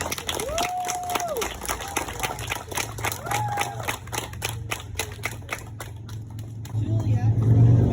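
An audience at an opening ceremony in Sydney, Nova Scotia breaks into applause, dense rapid clapping under a couple of short whistles or voices, swelling into a low rumble toward the end.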